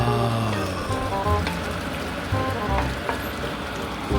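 Vegetables with a little pork sauté in a pan, giving a continuous close sizzle and crackle with faint stirring under soft background tones.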